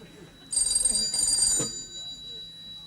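An old office telephone bell rings in a Corporation Cleansing Department: two close, loud, trilling bursts lasting about a second, then a low thump, with quieter room noise before and after.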